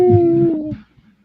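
A human voice imitates a werewolf howl: a single loud, close, sustained wavering tone lasting under a second that slides slightly down in pitch and breaks off, followed by silence.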